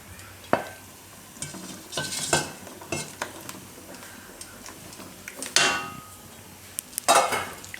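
Chickpeas simmering in a yogurt curry over a low gas flame while being stirred: soft bubbling and faint sizzle beneath irregular spoon scrapes and metallic clinks against the pot, close by and with no speech.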